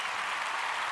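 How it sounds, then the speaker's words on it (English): A brief, small round of applause from a studio audience on a college football talk show, steady and moderately distant, with no talk over it. "See, you got a little round of applause there"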